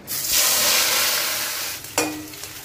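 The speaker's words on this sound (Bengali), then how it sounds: "এখন একটু মরিচের গুঁড়ো, একটু হলুদ গুঁড়ো আর লবণ দিয়ে ভেজে নেব" A loud burst of sizzling as chili powder, turmeric and salt hit the hot pan, easing to a steady fry, then a sharp scrape of stirring near the end.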